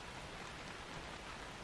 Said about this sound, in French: la pluie tombant en rideaux fins sur les pavés et les toits